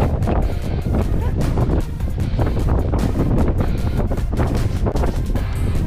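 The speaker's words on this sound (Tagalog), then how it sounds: "Lakas ng hangin." Heavy wind roars across the mic while cycling through Malico, San Nicolas, Pangasinan, a loud steady buffeting with a voice calling out over it.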